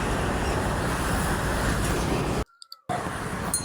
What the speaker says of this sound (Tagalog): dito muna ako sa gilid ng highway, grabe daming sasakyan.